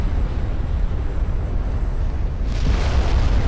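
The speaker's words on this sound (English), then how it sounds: "Oh, and there's a flash fire." A flash fire detonates aboard a warship in the naval battle game Ultimate Admiral: Dreadnoughts, a sustained low rumbling roar with boomy explosive weight that swells louder near the end, no voices.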